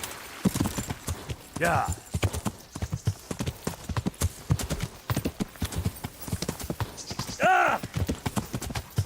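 A horse in a video game trots and gallops with quick, rhythmic hoofbeats and gives two whinnies, while someone talks over it.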